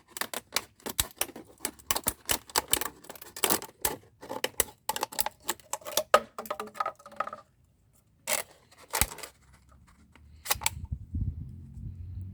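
Scissors cut a keladi (caladium) plant, making a rapid series of sharp, crisp snips with short pauses, close and clear, before a quieter rustling stretch at the end.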